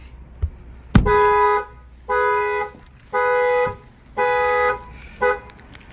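A sharp bang on a car window, then the factory alarm of a 2019 Dodge Challenger sounds in four loud, evenly spaced tonal blasts with short gaps between them, close by.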